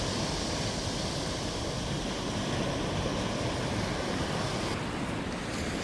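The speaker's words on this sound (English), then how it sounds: "You can hear all the rocks being tumbled." Waves wash over a beach and tumble rocks, a constant loud rushing roar of surf with a gritty rattling texture, close to the microphone and with no voices.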